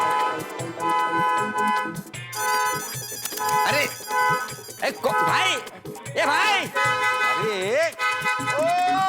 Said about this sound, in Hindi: हॉर्न बजाना बंद करो।